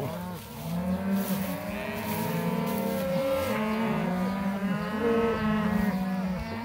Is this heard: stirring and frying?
no